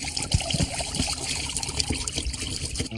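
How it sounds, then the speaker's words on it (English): Hot water dumped out of a plastic 2-liter pop bottle, an uneven glugging trickle with several short splashy bursts, close and moderately loud. "Now dump the hot water out"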